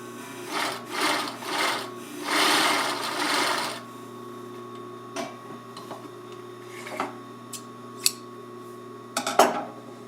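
A sewing machine runs a test pass of stitching through fabric while thread tension is being adjusted. It gives a few short whirring bursts, then one longer run, then trails off into quiet scattered clicks and taps.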